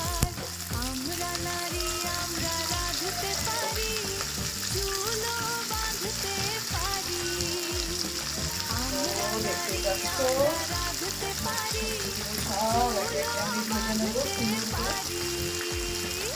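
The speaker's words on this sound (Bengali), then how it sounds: "সব সবজিগুলো একটু সুন্দর করে ভেজে নেবো, নাহলে কাঁচা গন্ধে থাকবে" Chopped vegetables sizzling and frying in a pan for Bengali khichuri, a continuous close crackle with faint stirring and background music throughout.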